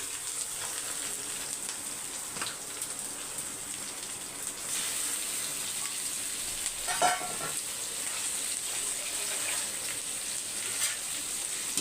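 Prawns cooking with sautéed onions in a pan give a steady, soft sizzle throughout, with a brief stirring clatter midway and no talking.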